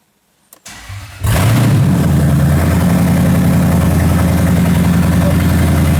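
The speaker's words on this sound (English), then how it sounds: "The car doesn't have an exhaust, so it's going to sound like a Spitfire" A Jaguar car engine with no exhaust fitted cranks briefly, then catches and roars into a loud, raw, unmuffled drone that holds steady and rumbles close by.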